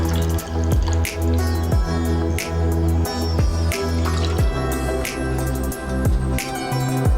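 Juice for Turkish delight dripping through a strainer, a quick run of close, distinct drips over a steady tonal background.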